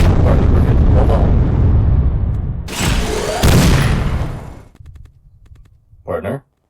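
Missile strikes slam into a Titan robot in the Titanfall video game, a roaring blast followed by a second sharp explosion and scattered crackling debris, with a synthetic robot voice speaking over much of it.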